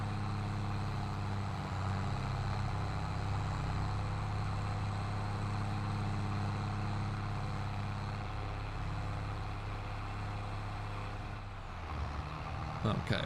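Tractor engine in Farming Simulator on a picturesque farm field, a loud steady low droning rumble that runs throughout, easing off near the end.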